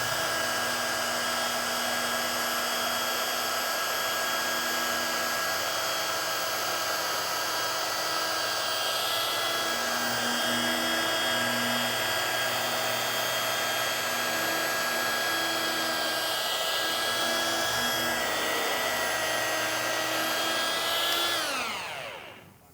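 A rotary polisher buffs a car's painted panel with deep scratches, a steady high-pitched electric whine that holds for about twenty seconds before spinning down at the end, with no voices.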